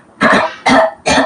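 Three loud, close coughs come in quick succession, each a short harsh burst with brief gaps between, made deliberately by a single person with no other sound around them.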